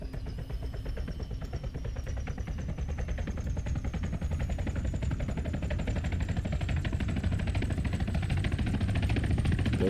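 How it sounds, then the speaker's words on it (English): A helicopter engine spools up in the video game Arma 3, its whine rising steadily over a fast, chopping pulse that grows louder and fuller. "The engine's firing up on the helicopter."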